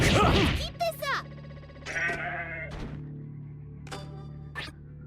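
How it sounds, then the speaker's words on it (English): A goat in the video game Zanki Zero bleats in a few short wavering cries amid game sound effects and voices, close and clear between thuds. "Another goat."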